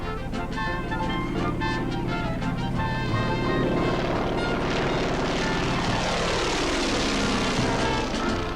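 Engine and propeller of an open-cockpit biplane on a passenger tour flight out of Tucson International Airport, a loud steady droning roar with the pitch shifting as it runs, heard alone without talk.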